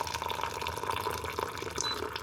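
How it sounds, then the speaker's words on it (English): Boiling water is poured onto tea to make homemade milk tea, giving a steady, close, bubbling splash of liquid filling a cup with no talking. "Add boiling water."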